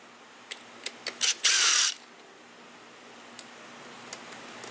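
A ratchet wrench cracks loose the crankcase bolts on a junkyard Honda Zuma scooter engine with a toasted crank: a few sharp separate clicks, then a fast half-second burst of ratcheting, close and alone, followed by sparse faint ticks.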